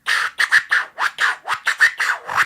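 A beatboxer vocally imitates a crab record scratch: about ten quick, choppy scratch bursts in an uneven rhythm, close and loud with no other sound.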